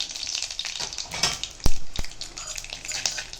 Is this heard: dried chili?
yes